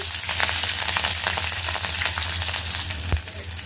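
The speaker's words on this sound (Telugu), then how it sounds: "ఇప్పుడు నువ్వు బాండీ పెట్టి నూనె పోసి ఆవాలు జీలకర్ర శనగపప్పు మినపప్పు పచ్చిమిర్చి" Mustard seeds, cumin, dals and green chilies frying in hot oil, a dense close crackling sizzle with rapid spitting pops, and a single sharp knock near the end, no talk.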